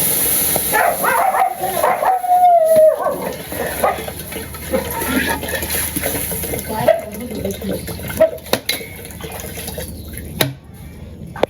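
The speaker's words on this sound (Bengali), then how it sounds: "2 কেজি জল দিয়ে দেবো, মেপে রাখছি" Water being poured and measured for pulao rice in a village kitchen, a running splash from a tap or pot with a dog barking and other background noises close by.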